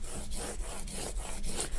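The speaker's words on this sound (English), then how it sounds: "Squeegee this down so it's good and adhered" A squeegee rubs cardstock down onto a cutting mat on a tabletop: close, steady rasping strokes repeating about every quarter second, alone and without voices.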